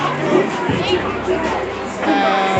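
A large crowd gathered behind a police barrier at a Ferguson protest gives off a continuous dense murmur of voices and street noise, close and fairly loud, with someone talking nearby.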